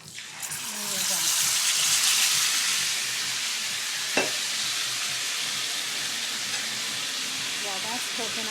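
Pork chops fry in a pan on a home stove for Hispanic-style fried pork chops: a steady, close sizzling hiss runs throughout with one sharp clink partway, and a faint voice murmurs at the start and end.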